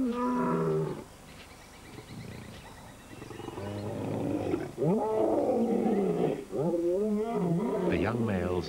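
Separated lions roar to find each other in unfamiliar territory, a series of deep, drawn-out roars and grunts that carry far, rising and falling across several seconds alongside a narrating voice.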